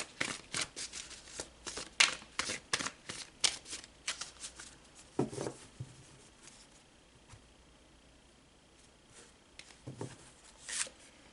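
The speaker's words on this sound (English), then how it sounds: "let's pull some more cards" Tarot cards are shuffled by hand in quick, riffling bursts of crisp papery flicks, dense at first, then sparser with pauses, close and fairly quiet.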